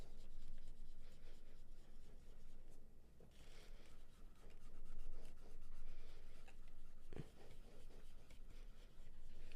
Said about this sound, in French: j'écrase le pigment dans le papier